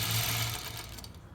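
An A1 Elite Platinum stitch-regulated quilting machine runs in a steady, rapid mechanical whir, close and continuous, tapering off near the end.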